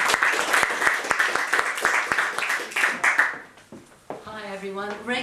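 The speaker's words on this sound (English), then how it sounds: "Big round of applause." An audience at a talk about animator Joy Batchelor breaks into a dense round of applause, loud and near, that fades after about three seconds into a voice speaking.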